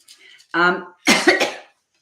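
A voiced throat sound followed by a sharp, harsh cough, close to the microphone, with brief quiet between them.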